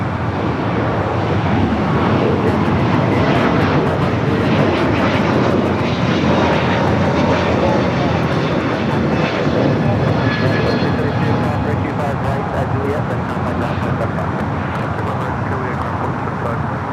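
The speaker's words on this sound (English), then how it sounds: "A321neo just touching down here on the south side" An Airbus A321neo touches down on the south side at LAX, a loud, steady broadband jet roar holding throughout with a faint high whine drifting over the rush.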